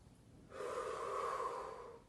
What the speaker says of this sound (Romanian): Inspirăm pe nas, expirăm pe gură.